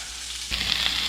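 Sausages sizzle and fry in a pan for breakfast, a steady close hiss that swells brighter halfway through with small pops and spatters, no voices.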